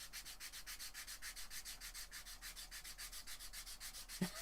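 Sandpaper rubs by hand in quick, even back-and-forth strokes on a hobby miniature, a soft rhythmic scratching at close range, ending with a small knock.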